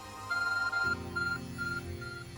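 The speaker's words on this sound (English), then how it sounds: "Our ARC phone is beeping." The ARC phone in Pokemon Legends Arceus beeps in a series of four short, clear electronic tones at an even pace, heard over quiet in-game background music.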